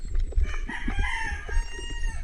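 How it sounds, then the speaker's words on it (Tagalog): A rooster crows close by, its long rising call drawn out over a couple of seconds, with some clucking and farmyard noise underneath. "Sige manok, tulaok pa yan."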